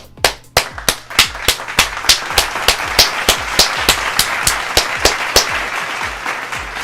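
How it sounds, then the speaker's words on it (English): A single pair of hands claps in a regular rhythm, sharp close slaps repeating roughly every third of a second with no voices, cheering the Dallas Mavericks. "Clap it up for the Dallas Mavericks."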